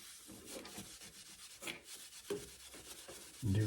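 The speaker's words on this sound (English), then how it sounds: "Now we're going to put a little simple green on our steel wool." Steel wool wetted with Simple Green scrubbing a bicycle 3-speed shifter lever, a steady close raspy rubbing in repeated strokes, fairly quiet, with a sharper knock at the end.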